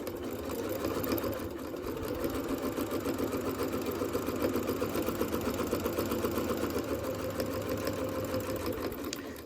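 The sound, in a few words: sewing machine stitching fabric coaster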